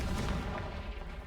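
A Confringo blasting spell goes off in Hogwarts Legacy, a loud, dense burst of explosive booming and crackle that stays heavy through the short moment without any voices.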